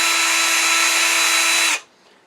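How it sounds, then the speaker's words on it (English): An electric drill, set to drill mode for faster speed, bores a hole in the top of a turned wooden pear, a loud steady high whine for under two seconds that stops abruptly, leaving near silence. "I'm going to drill a hole with the electric drill in the top of the pear."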